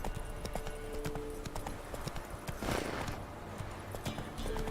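Geralt's horse Roach gallops in The Witcher 3, a steady near clip-clop of hooves with a brief surge of noise midway over game ambience.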